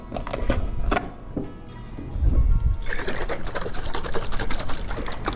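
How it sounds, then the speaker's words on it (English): A container holding laundry ingredients, borax among them, is shaken in water, making a loud, steady sloshing and rattling that runs through the whole stretch with a louder splashy surge in the middle, and no voice over it. "you want to shake that up."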